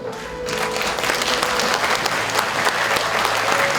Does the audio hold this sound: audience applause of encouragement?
yes